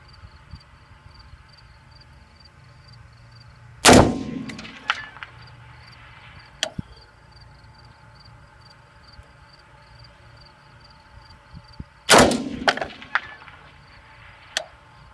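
AR-15 rifle fired outdoors at a 500-yard range: two loud, sharp shots about eight seconds apart, each with a brief ringing tail, over steady insect buzz and scattered small clicks.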